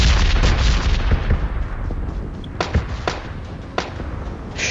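Several sharp gunshots crack out in PUBG Mobile, spaced irregularly over a steady background of game ambience, with a few distant-sounding reports standing apart from one another.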